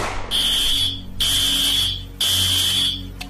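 A school fire alarm, set off by gunfire smoke, blares in three long, loud electronic bursts with short gaps between them, over a low background rumble.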